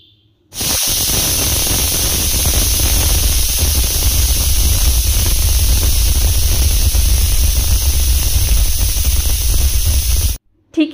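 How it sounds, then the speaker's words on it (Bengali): A pressure cooker full of beef nehari vents steam in one loud continuous hiss lasting about ten seconds, then cuts off abruptly; no distinct whistle tone stands out. "ঠিক এভাবে আমি সিটি দিয়ে নিয়েছি 15 থেকে 20টার মতো।"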